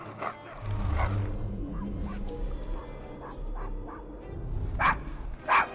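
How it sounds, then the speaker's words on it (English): A dog barks in a city street scene from the video game Assassin's Creed Syndicate. Several sharp, mid-distance barks come in uneven bursts over a low ambient rumble, with no voices. "Is your dog quite all right?"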